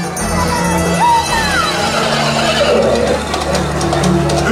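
A horse whinnies loudly over a lively crowd during a White Horse Cowboy stunt show at the Efteling theme park, with a rising neigh near the start, ongoing crowd noise and faint background voices.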